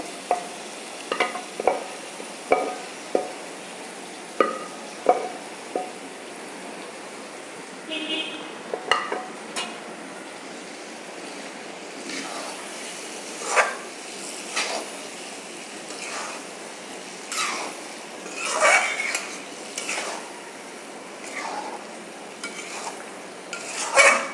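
Red lentils tipped into a pan of bottle gourd and stirred, with scattered spoon scrapes and clinks against the pan over a soft background hiss, growing busier toward the end.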